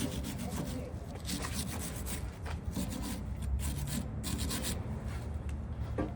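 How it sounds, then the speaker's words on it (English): A wire brush scrubs the face and threads of a polyurea pump manifold, giving a continuous close scratchy rasp of quick, irregular strokes at a low, steady level. "Take our wire brush again."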